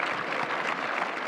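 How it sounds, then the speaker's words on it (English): An audience at a conference panel discussion applauds, a dense, even wash of clapping at moderate volume that continues for the whole short stretch. "Can I get another round of applause for our fantastic lineup today?"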